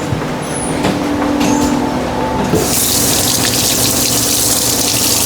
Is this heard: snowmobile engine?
no